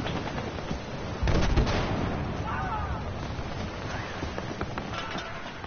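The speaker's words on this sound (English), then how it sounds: "M1911 time. A 45 ACP round." Gunfire from an M1911 pistol firing .45 ACP rounds in the video game Battlefield Hardline: a loud burst of shots near the start, then a few fainter reports over steady game noise, with a voice speaking.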